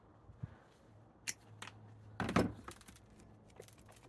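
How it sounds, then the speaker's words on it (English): Snips cut through girdling cotoneaster roots in a garden bed, a few sharp isolated snaps and crunches separated by quiet pauses, close and loud against faint background noise. "let's grab a pair of snips"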